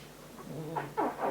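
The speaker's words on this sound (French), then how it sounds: "Ah, un petit chat qui passe." A small cat passing by indoors gives a short, faint meow followed by a couple of soft rising mewing sounds, close but quiet.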